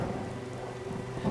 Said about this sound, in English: monsoon-driven winds howled outside as rain poured into the tent